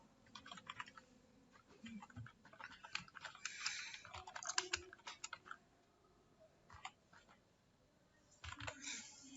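Computer keyboard typing while entering text in Microsoft Word 2019, close clattering bursts of rapid keystrokes separated by short pauses, with no one speaking.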